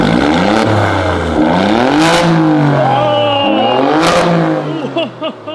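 Alfa Romeo Stelvio QV in sport mode revving hard, loud engine rising and falling through repeated climbs with sharp crackles between, settling near the end.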